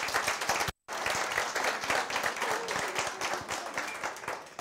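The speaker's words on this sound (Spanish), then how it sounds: "Un aplauso para ella." An audience at a master's degree graduation ceremony applauds with steady, dense clapping, briefly cut off by a short dropout early on, then continuing at an even, moderate level with a few louder individual claps.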